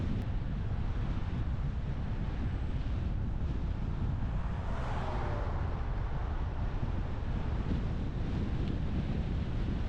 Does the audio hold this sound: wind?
yes